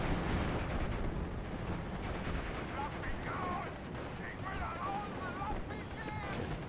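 Battle in the WWII strategy game Steel Division Normandy 44 at Pegasus Bridge: a steady wash of distant gunfire and artillery rumble runs throughout, with someone talking over it.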